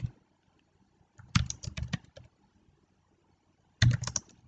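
Keys on a computer keyboard clatter in two quick bursts of typing while entering values in an Excel spreadsheet, separated by a stretch of near silence; close and moderately loud.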